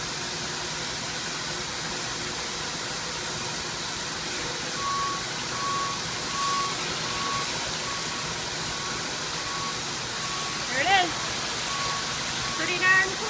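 Water spraying to rinse a freshly painted four-wheeler tank: a steady, even hiss of running water throughout, close and moderately loud, with a faint tonal beep and a couple of brief knocks near the end.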